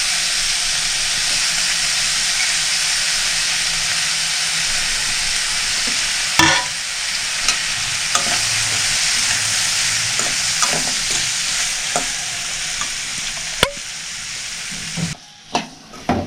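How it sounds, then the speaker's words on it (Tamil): Boiled potatoes frying in a pan for potato masala, a loud continuous sizzle and hiss with occasional clinks and scrapes of a spoon stirring, no talking. "உருளைக்கிழங்கு போட்டு நல்லா வதக்கிட்டு"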